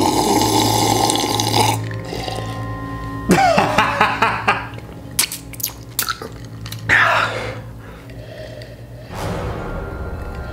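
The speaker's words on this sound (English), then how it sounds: "Just stirring up the ice for you." Ice stirred in water, sloshing and splashing with clinking cubes and drips, loud and close, coming in uneven bursts with short pauses.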